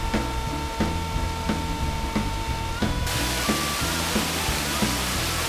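Water at Catawba Falls rushes under a partly frozen sheet of ice with icicles, a constant broad hiss that gets louder halfway through, under rhythmic background music.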